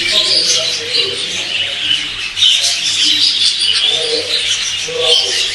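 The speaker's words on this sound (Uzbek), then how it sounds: "Meni e'tiborimni tortgan narsa mana bu qush bo'ldi." Many birds chirp and call continuously at a bird keepers' large household, a dense, bright, overlapping chatter that stays fairly loud throughout, with soft cooing-like tones underneath.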